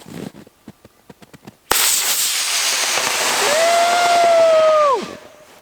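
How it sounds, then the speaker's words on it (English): A model rocket carrying an Insta360 camera launches. A few soft clicks come first, then a sudden loud whooshing roar holds for about three seconds with rising whistling tones and stops abruptly. "Now let's go launch that rocket."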